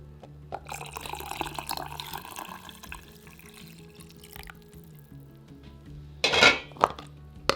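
Taco soup broth is poured into glass canning jars, a soft trickle of liquid with scattered clinks of glass and utensils, building to a louder burst of splashing and clanking near the end.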